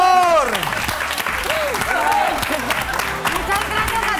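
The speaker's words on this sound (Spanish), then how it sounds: "Un aplauso," A crowd applauds after a couples belly dance performance, dense clapping that holds steady throughout, while voices call out over it and one person talks near the microphone.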